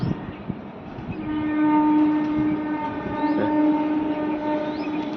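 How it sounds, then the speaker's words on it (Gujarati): A train three to four kilometres away rumbles steadily while its horn sounds a long, sustained tonal blast, carrying faintly across open air. "રેલગાડીનો અવાજ આવે છે"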